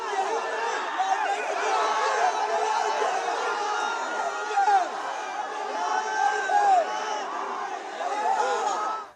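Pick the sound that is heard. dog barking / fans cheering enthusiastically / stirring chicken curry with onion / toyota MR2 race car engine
fans cheering enthusiastically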